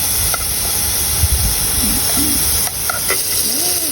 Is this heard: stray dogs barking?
no